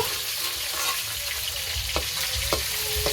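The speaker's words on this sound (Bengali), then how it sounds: "এই মাছটা কড়া লাল করে ভাজতে হয় না একটু হালকা ভাজতে হয়" Fish shallow-frying in hot oil in a home kitchen gives a steady, close, crackling sizzle throughout, with a few sharp clicks of a utensil against the pan.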